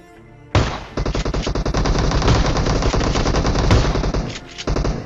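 Rapid automatic rifle fire, an AKM in a PUBG battle with shotgun shots nearby, bursts loudly after a brief quiet start and rattles almost without break, with only a short pause near the end before it resumes.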